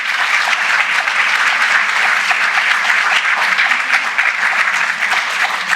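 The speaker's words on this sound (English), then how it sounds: "So it's a big clap once again for her." An audience at a literary festival's inaugural session in London gives warm, continuous applause for a speaker, a thick, even patter of many hands with little talk.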